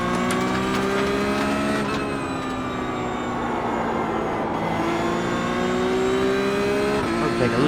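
Porsche GT3 Cup race car engine in iRacing at The Bend International circuit, a loud, sustained high-revving howl with rising pitch through the gears, brief shifts near two and seven seconds, and no talking.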